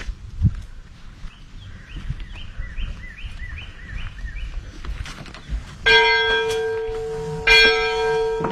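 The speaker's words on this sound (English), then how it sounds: "You can still ring the bell, right? Oh, yeah, the bell works." A church bell rings out in a steeple, two loud bright strikes with long ringing decay in the final seconds, preceded by birdsong and light footsteps or shuffling nearby.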